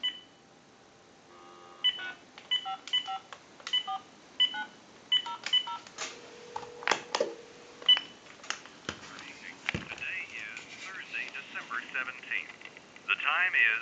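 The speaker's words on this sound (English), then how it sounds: "So we'll go ahead and dial that number now" A telephone dials a time-and-temperature number, a quick run of distinct touch-tone beeps in short groups, followed by a line tone and a faint recorded voice; someone talks quietly in the background.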